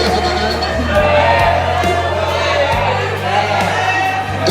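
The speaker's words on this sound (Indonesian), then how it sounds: "kasih aplaus untuk para pemenang" A crowd at a yel-yel competition awards ceremony cheers and applauds for the winners, with a loud, steady wash of noise, scattered whoops and shouts, and a low musical hum underneath throughout.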